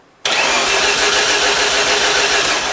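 A Mazda RX-7 fitted with a Haltech engine management system fires up abruptly after a moment of quiet, then settles into a loud, steady, close-up idle with no voices over it.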